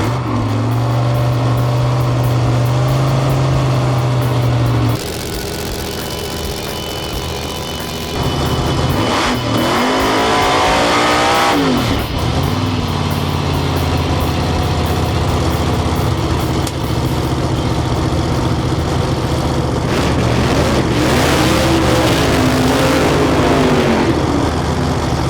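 A drag race car engine revs loudly after a burnout, holding a heavy continuous roar with repeated surging revs and brief drops throughout.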